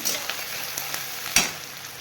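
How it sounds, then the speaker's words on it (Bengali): Potatoes and carrots fry in hot oil in a pan, giving a steady close sizzle with a few sharp spatters and brief stirring scrapes, no voices. "এবার আলুগুলো আমি দিয়ে দিচ্ছি গাজর দিয়ে একটু ভালো ভেজে নেবো"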